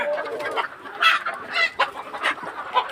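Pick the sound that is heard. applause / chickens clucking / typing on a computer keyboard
chickens clucking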